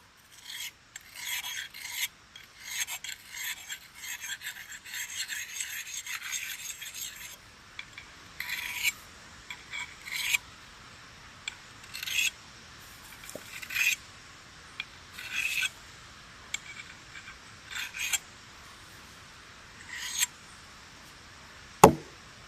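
Council Tools pack axe blade being honed with a small handheld whetstone, heard as a run of quick, close raspy strokes followed by spaced single scrapes, fairly quiet, with a sharper click near the end.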